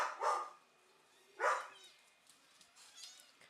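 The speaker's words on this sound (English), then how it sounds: "Have no idea what they're barking at" Two dogs' barks ring out at moderate distance, one short burst near the start and another about a second later, followed by quieter rustling in an otherwise still outdoor setting.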